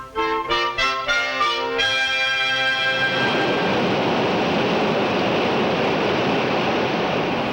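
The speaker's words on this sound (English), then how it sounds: "The roar of rushing water was once just a sound, a waste of turbulent energy" Rushing water roars in a loud, steady, broadband wash that fills the clip. Just before it, a few ringing bell-like tones are heard.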